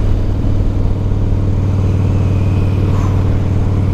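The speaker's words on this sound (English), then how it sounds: "The beautiful Harley Davidson sound." A Harley-Davidson Heritage Softail motorcycle engine idles with a loud, steady low rumble and a rapid, even, lumpy pulse throughout, close up and alone with no talking.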